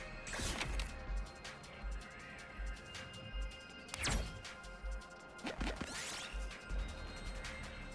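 Glass pieces are smashed in The Hundred Line, a video game, with several sharp crashing breaks spaced across the stretch, loud and close, over a steady game backdrop with a faint low rhythmic pulse.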